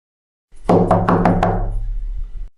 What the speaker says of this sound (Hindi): इसने दरवाजे पर दस्तक दी।